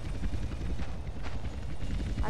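A helicopter flying in the video game GTA San Andreas, a continuous low rotor thumping that stays fairly loud and steady throughout, with a faint voice in the mix.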